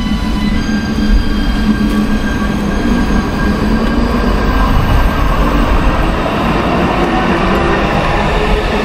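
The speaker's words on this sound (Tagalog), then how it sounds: "Waiting for the train." A train at a station in Cologne gives a loud, steady rumble with rolling wheel noise and a faint high whine, continuous for the whole stretch.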